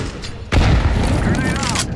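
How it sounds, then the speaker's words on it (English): A flashbang grenade detonates in the video game CS2: a sudden loud, close burst about half a second in, followed by a sustained roaring wash with a high ringing tone until the end. "Flashbang. Smoke. Flashbang."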